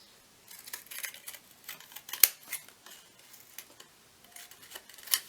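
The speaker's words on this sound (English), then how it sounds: "just cut round them." Small scissors snipping rounded corners on paper mini journal cards, a string of quiet, close crisp snips in irregular bursts with pauses between, no talking.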